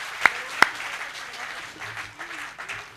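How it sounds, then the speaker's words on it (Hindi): An audience at a Hindi poetry recital gives applause: a soft, dense patter of clapping runs throughout, with two sharp louder claps close together near the start. "हाथ खड़े करके एक बार तालियां बजाए सारा सदन"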